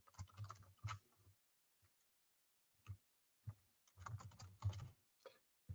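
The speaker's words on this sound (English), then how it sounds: "I have my microphone literally in front of my keyboard, making typing impossible" Fingers type on a computer keyboard right beside the microphone, giving loud, close bursts of clicky keystrokes separated by silent gaps.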